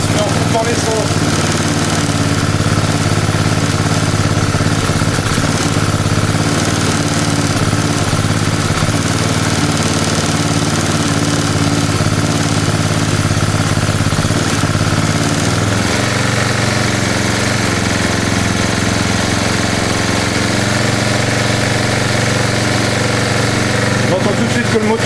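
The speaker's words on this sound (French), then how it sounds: "Tout de suite que le moteur tourne plus vite" A loud small engine running on HHO gas with its petrol supply cut drones steadily up close, its tone shifting partway through as it settles into a faster, higher running pitch.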